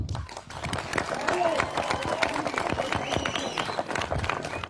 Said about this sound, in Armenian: Դե բուրըն ծափերով ողջունենք